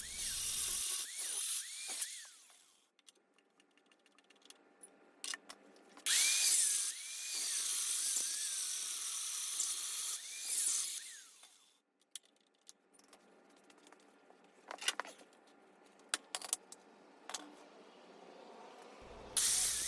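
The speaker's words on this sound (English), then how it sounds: "Then I went ahead and switched over to a flat disc, just to get the little bit that I didn't get with the cutoff wheel." Angle grinder work on dirt bike frame brackets, first cutting with a cutoff wheel and then finishing with a flat disc, giving bursts of high, hissing grinding that start and stop with quiet gaps between passes.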